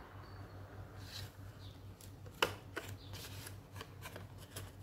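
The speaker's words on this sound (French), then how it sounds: "Donc, on va faire des plis partout où il y a des traits." Paper is creased along drawn lines for a Father's Day craft, making faint, close crinkles and sharp little folding snaps against a quiet room.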